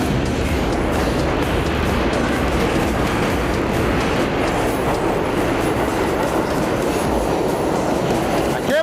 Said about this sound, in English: Not in service train coming.